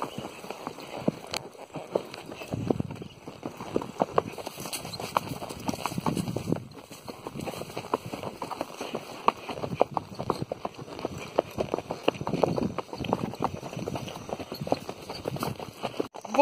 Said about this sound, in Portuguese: os cavalos estão ficando num passo aqui do lado